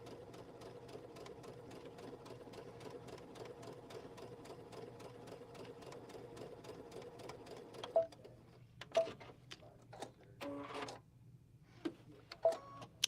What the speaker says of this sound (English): we're just sewing straight down